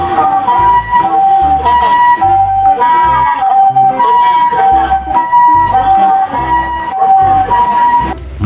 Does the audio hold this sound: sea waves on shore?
no